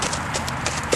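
A rescued bucking-stock horse walks with steady, close clip-clop hoofbeats in a brief burst, with faint background sound under the footfalls.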